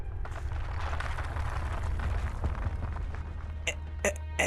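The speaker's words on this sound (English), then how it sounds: "An explosion?" A muffled explosion rumbles in the Arknights video game, a low sustained roar with debris-like crackle, followed near the end by a few short sharp impacts.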